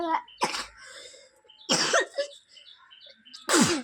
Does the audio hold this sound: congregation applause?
no